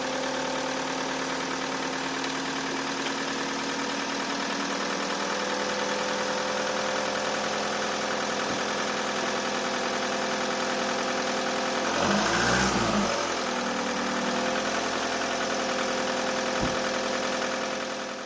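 A car engine with a faulty alternator idles steadily with a low, even hum and slight vibration, briefly rising in a short rev near the end before settling back.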